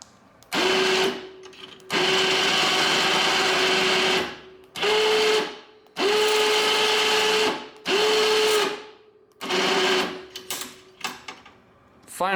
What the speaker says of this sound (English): So there's the winch, here are the cables for it